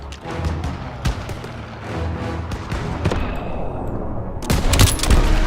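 Gunfire in a Call of Duty mission, with rapid shots fired at snipers across a steady battle din and a louder burst of shooting near the end.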